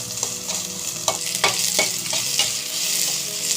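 Ginger garlic paste sizzling and frying in hot oil in a pan, with a steady crackling hiss and several scraping stirs of a spoon, close and fairly loud, no talking.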